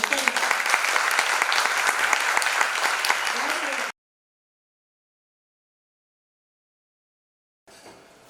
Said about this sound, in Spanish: un aplauso para Verónica.